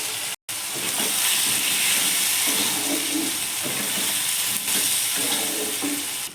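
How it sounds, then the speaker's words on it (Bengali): Fish head and cabbage fry in a pan while salt and turmeric are stirred in, giving a steady close sizzle broken by repeated scraping strokes of the spoon. "লবণটাকে দিয়ে ভালো করে মিশিয়ে নেব।"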